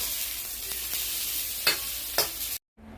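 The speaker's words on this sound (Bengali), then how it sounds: "আমি বেগুন আর কাঁচকলাটা একসঙ্গে ভেজে নিচ্ছি" Eggplant and green banana fry together in oil in a pan for sukto, giving a soft, steady sizzle with a couple of brief stirring scrapes before it cuts off abruptly.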